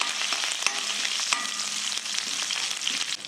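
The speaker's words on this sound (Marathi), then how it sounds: "कढीपत्ता, हिंग आणि 1-2 लाल मिरच्या टाकलेल्या आहेत फोडणीला" Garlic, curry leaves, asafoetida and red chillies crackle and sizzle in hot oil as a tempering, a steady close frying hiss with small pops and a few stirring scrapes throughout.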